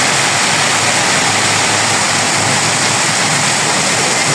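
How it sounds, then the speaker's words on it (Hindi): Heavy rain pours onto a road in a steady, loud, unbroken roar of water that stays constant throughout with no talk. "बारिश बहुत ज़्यादा है"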